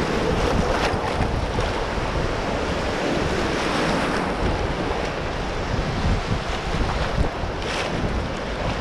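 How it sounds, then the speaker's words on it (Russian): Waves on the Baltic Sea shore of the Gulf of Finland churn in a continuous, loud, close wash, mixed with gusty wind noise and no voices. "Слушай, там вообще как в джакузи вот эти волны."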